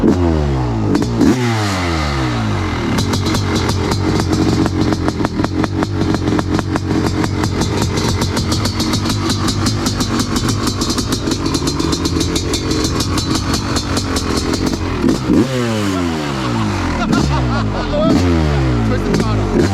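A 500cc two-stroke dirt bike engine blips up and down in rising, falling revs, then holds a loud, sustained high-rpm howl before dropping back into more quick throttle blips, close and unbroken.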